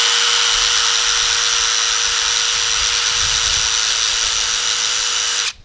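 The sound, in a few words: power drill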